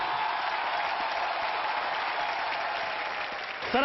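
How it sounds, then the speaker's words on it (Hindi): Audience applause greeting two guests arriving on stage at a live Hindi show, a steady dense clapping that holds at full strength for nearly four seconds, with a brief rise at the very end. "अनु सर के लिए और ओम जी के लिए जोरदार तालियां हो जाए।"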